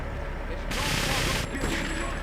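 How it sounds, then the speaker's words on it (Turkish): Gunfire bursts in GTA 3, a loud, dense rattle of shots that thickens partway through, with voices heard under the shooting. "Hop biri beni vurdu."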